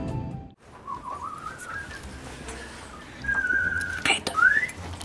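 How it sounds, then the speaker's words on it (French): A child blows a small toy whistle in a few wavering, rising toots, fairly close and moderately loud over a quiet room background. "Et enlève ce sifflet de ta bouche"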